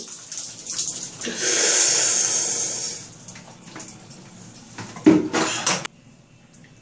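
A bucket of ice water is dumped over a person for an ice bucket challenge, a loud splashing rush lasting about a second and a half, followed by dripping, a clatter and a second burst of splashing.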